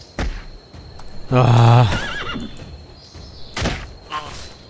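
A horse in the video game Dark and Light lets out one loud, quavering whinny, followed by softer snorts and a few hoof thuds; the whinny stands out clearly over a quiet outdoor ambience.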